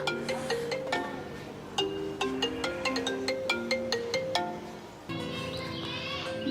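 An outgoing phone call rings unanswered, playing a melodic ringtone tune as a string of bright, repeated notes that continues steadily at close range, with no voices.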